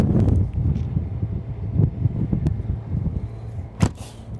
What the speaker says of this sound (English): since it's kind of windy